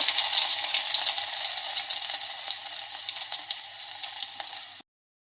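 Mustard seeds, cumin, crushed ginger and garlic fry in hot oil in a pan, giving a bright, steady sizzle with scattered small pops close by. The sound fades slightly before cutting off abruptly, with no talk.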